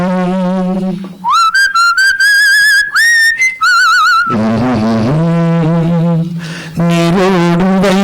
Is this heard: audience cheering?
no